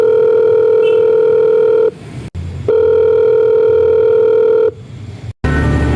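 A mobile phone rings as a radio play effect: two loud, steady electronic tone bursts, each lasting about two seconds, separated by short gaps with a faint rustle between them.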